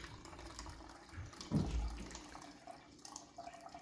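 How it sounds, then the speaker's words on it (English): Red cabbage juice pours through a kitchen strainer into a container, a quiet trickle with one brief, fuller splash in the middle. "so just strain it through a strainer like this, and just into a container that you can pour easily out of"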